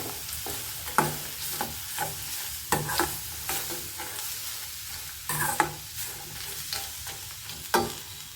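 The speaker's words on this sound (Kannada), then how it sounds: "ಇದನ್ನು ಬಾಣಲೆ ಶಾಖದಲ್ಲೇ ಹುರ್ಕೊಂಡ್ರೆ ಸಾಕಾಗತ್ತೆ." Grated coconut dry-roasts in a hot pan, with a soft continuous sizzle and rhythmic spatula scrapes and stirs repeating about every half second, close and moderately loud.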